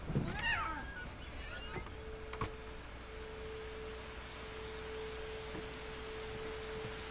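A cat meows once near the start in the video game What Remains of Edith Finch, followed by a few faint clicks and a long steady tone over quiet ambience.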